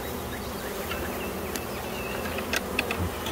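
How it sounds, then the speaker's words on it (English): Honey bees in an open hive hum and buzz steadily up close, a soft continuous drone with a few individual bees buzzing louder as they fly near. "Full of bees."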